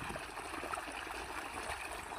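Irrigation water flowing steadily along the furrows of a sugarcane field, a continuous soft trickling and gurgling stream close by with no talk over it.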